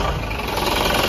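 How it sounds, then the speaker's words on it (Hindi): A TATA 1109 BS3 diesel truck engine, started by push button, runs with a loud, dense, continuous rumble and clatter, steady and close, with no talking. "अभी देखते हैं स्टार्ट करके, ये बटन से स्टार्ट होगा"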